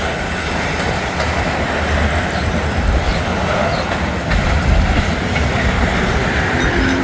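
A CSX freight train hauling lumber cars rolls past close by, a loud steady roar with clattering wheels on the rails and a brief squeal, continuous for the whole stretch.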